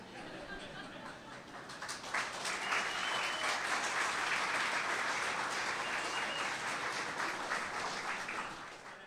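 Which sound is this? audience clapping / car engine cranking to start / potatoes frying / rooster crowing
audience clapping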